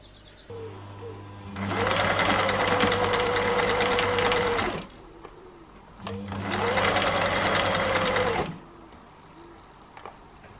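Sewing machine stitching a bride's wedding dress, two sustained bursts of fast, even whirring and needle chatter, close and loud, separated by a short pause.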